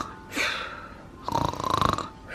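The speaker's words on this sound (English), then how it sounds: "I know y'all can hear her snoring sometimes." A woman snores in two rasping breaths, one short and one longer and fluttering, close and fairly loud with no talk.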